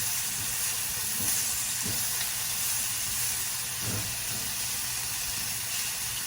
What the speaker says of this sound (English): Now we're just going to stir these carrots